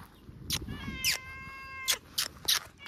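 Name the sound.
cat meowing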